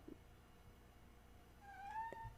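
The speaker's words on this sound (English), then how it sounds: "What are you meowing at?" A house cat gives a short, soft rising meow near the end of a quiet indoor stretch, faint and brief, with faint room noise before it.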